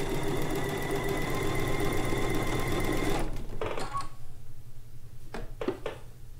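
A sewing machine runs steadily for about three seconds, stitching quilt strips at a 2 mm stitch length with a quarter-inch seam, then stops, leaving a few faint clicks and handling sounds close by.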